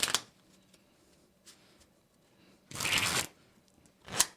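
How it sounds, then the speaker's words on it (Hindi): A deck of playing cards being shuffled, heard as a few short riffled bursts with quiet gaps between them, close and fairly soft, with no talking. "शफल आप शफल कर लो अच्छे से, फिर मैं देखूंगी कुछ पैटर्न वैटर्न तो नहीं है"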